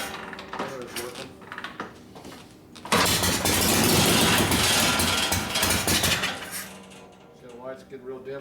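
A 1972 Harley-Davidson XL Ironhead Sportster being started after a motor rebuild: cranking, then a loud near engine catches and runs roughly for several seconds before settling, with people talking before and after.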